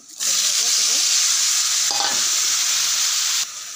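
Mixed vegetables, coated in spices, hitting hot oil seasoned with black cumin seeds in a wok, a sudden loud continuous sizzle that holds steady for several seconds before dropping slightly.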